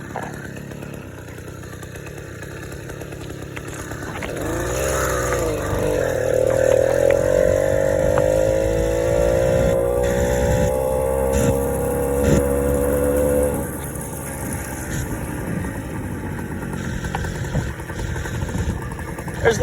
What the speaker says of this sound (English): You can hear the throttle response too.